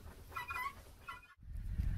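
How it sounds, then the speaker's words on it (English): Baby guinea fowl call on a farm with a guinea flock, two short, faint chirping bursts close together in quiet surroundings. "So the noise you hear is actually our baby guineas from our mama and daddy guinea"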